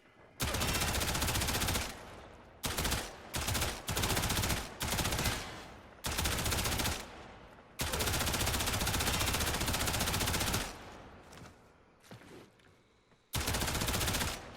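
Sustained automatic fire from the Soma Prime rifle in the video game Warframe comes in long loud bursts broken by short gaps, close and dominant, with one extended volley of several seconds and a tapering quieter stretch before a final burst.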